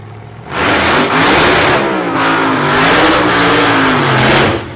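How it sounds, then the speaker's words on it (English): A race car does a tyre burnout in the pits at a nostalgia racing event, its engine revving loud and close in sustained surges with harsh tyre-spinning roar for several seconds before easing off. "Tim Stewart getting a burn on the tyres there"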